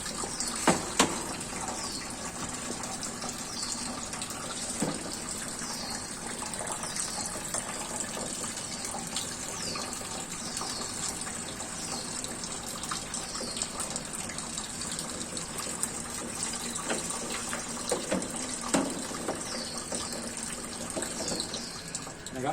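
Engine oil draining from a small Yanmar diesel engine being stripped for cylinder head removal in a small-engine workshop class, a steady liquid gush running continuously, with scattered light clinks and no talk.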